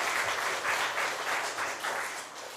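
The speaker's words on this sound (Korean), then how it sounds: "우리 한번 어머님들께 박수 한번 보내드리겠습니다" A church congregation at a Sunday service bursts into warm, steady applause for the mothers on Mother's Day, the many clapping hands swelling and ebbing in waves throughout.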